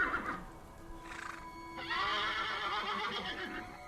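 A horse, used as a sound effect in a horror story, gives a loud, close whinny that rises into a long shrill neigh, with faint hoofbeats beneath it.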